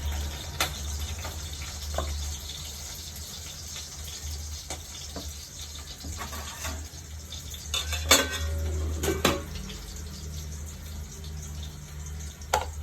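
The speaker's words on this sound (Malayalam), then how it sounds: "ഇതൊന്ന് കലക്കി വയ്ക്കാം" Semolina batter for rava uttapam being stirred in a bowl, with intermittent spoon clinks and scrapes against the bowl, a few sharper knocks near the end, over a low steady hum.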